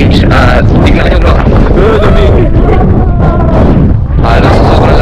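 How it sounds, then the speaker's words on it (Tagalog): Strong wind roars across a beach microphone during a morning Ironman race setup, a loud, continuous buffeting rumble, with someone talking over it. "halos sobrang lakas ng hangin na nagiba yung mga itong mga nakalagay dito"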